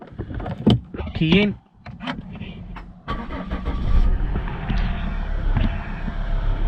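A Volvo V60 D5 diesel starting up: a brief electric whir and cranking near the three-second mark, then the engine catches and settles into a steady, close idle rumble, with a voice briefly at the start.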